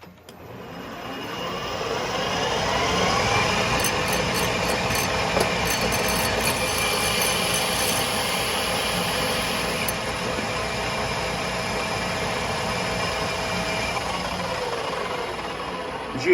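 A metal lathe at about 1700 RPM parts off a bar with a steady, continuous machining whir and faint high squeal. The sound holds evenly throughout with no talk.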